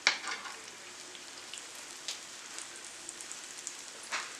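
Birria quesatacos, folded tortillas with cheese, fry in a pan with a soft, steady sizzle and scattered faint pops and scrapes nearby.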